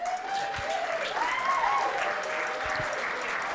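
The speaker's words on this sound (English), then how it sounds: "Round of applause for Ollie." Attendees at an in-person sales leadership event clap for a co-host, a steady crowd patter with a faint high whistle or tone drifting above it.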